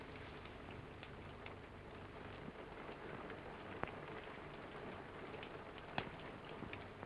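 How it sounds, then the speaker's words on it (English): Soft, steady rain patters continuously, with occasional louder drops and clicks standing out against the faint hiss. "It's only the rain."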